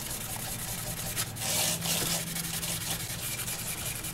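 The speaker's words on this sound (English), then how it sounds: "So just by hand, buff these wings" Wooden wings of a eucalyptus water lily box buffed by hand, a steady close rubbing and brushing hiss that swells briefly in the middle, with a faint low hum underneath and no talking.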